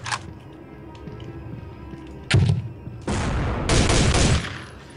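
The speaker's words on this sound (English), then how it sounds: "So I basically need to turn around and immediately fire that grenade." Grenade launcher fire in Soldier of Fortune II: a sharp close shot at the start, then a heavy thud around the midpoint followed by two loud, sustained explosive blasts rumbling one after another, no voices.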